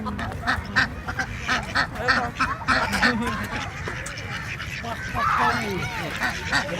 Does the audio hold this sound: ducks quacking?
yes